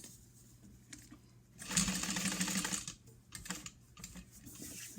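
A domestic sewing machine stitching down the long folded edge of a fabric bag, a burst of rapid mechanical whirring and needle clatter between quieter handling noises and short starts and stops.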